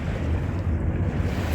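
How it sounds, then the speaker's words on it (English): Waves from a passing Uber boat wash against the Thames shore in London, a loud, continuous low rumbling surge with heavy wind buffeting on the microphone. "the Uber boat passed and it just caused humongous waves"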